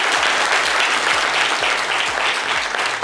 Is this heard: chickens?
no